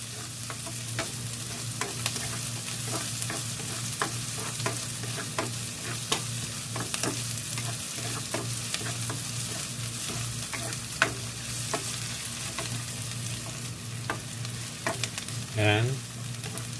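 Ginger fries in a pan for chicken curry, a steady close sizzle broken by frequent clicks of stirring and scraping, continuous and loud throughout with no talk.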